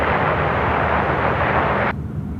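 An aircraft at Sydney Airport in the evening, a loud, dense jet engine roar held steady close by, then cutting abruptly to a quieter low rumble near the end.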